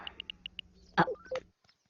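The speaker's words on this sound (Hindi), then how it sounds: "फोन लगाइए। लगाइए ना।" Five quick, evenly spaced telephone keypad tones beep in a row as a number is dialed, then a short burst of other electronic tones follows before falling silent.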